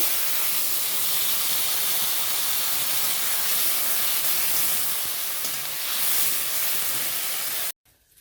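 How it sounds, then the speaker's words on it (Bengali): Water poured into a pan of fried spices with fish, tomato and potato sets off a loud, steady steaming hiss that runs for several seconds, then cuts off abruptly. "মশলা ভাজা হলো, দিয়ে দেব মাছ, টমেটো আলু। এখন জল দিয়ে দেব।"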